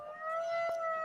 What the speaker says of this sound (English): Jeez, this wind is ridiculous.